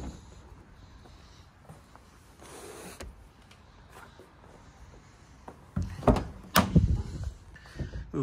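A 2018 Volkswagen Caravelle 2.0 TDI's powered sliding door opens at the press of a key fob button, first with a faint electric whir, then louder mechanical clunks and latch knocks as the door slides and settles, close by and without talk.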